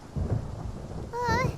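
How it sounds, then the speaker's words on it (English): Low rumbling thunder during a storm in the video game Genshin Impact, a brief rolling rumble with a voice briefly rising over the noise near the end. "Paimon hears thunder!"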